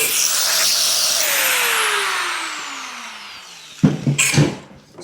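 Power tool whine from a Sawzall reciprocating saw cutting into a 1941 Chevy steel body, a sustained buzzing drone that fades, then a few sharp loud bursts near the end.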